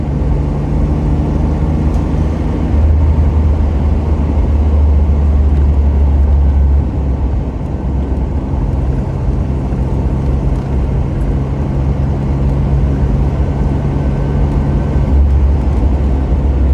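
A 1992 Camaro RS drives at around 50 to 55 mph, giving a loud, steady engine drone and road rumble from inside the car, with no talk.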